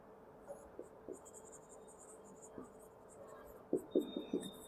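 Pen writing figures by hand on paper during a bank reconciliation accounting lesson, a quiet scratching with a few short soft strokes, then a quick burst of firmer strokes near the end, with faint room hum and no voices.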